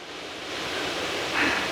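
Water rushes steadily through a reservoir overflow drain, a continuous broadband roar that holds close and fairly loud throughout, swelling slightly near the end.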